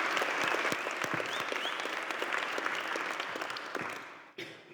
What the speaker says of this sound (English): Can we have a round of applause for Annette, because she's made this happen?